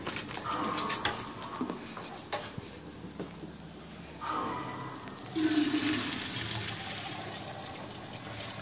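Water from cooked Persian rice, being made with a tahdig crust, drains through a strainer as a steady rushing splash that grows louder partway through, over faint kitchen clatter.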